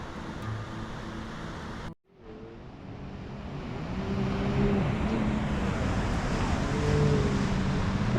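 Jet skis roar across the sea below the Ponta da Piedade cliffs in the Algarve, a steady distant engine drone blending with surf and wind, swelling louder after a brief dropout.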